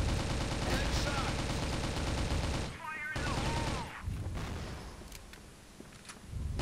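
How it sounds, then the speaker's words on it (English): Gunfire and a grenade blast in the video game Crossfire, loud rapid shots and a booming burst up close, then dropping to quieter rumbling, with a voice talking over it. "Big sound effect for the fire in the hole."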